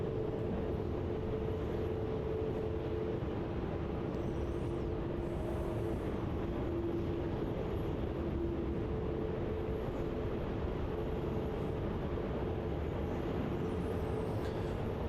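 Vietnam Airlines passenger jet rolling for takeoff on runway 34 at Melbourne Airport, Australia: a continuous, loud, even jet roar, heard from a distance without any talk.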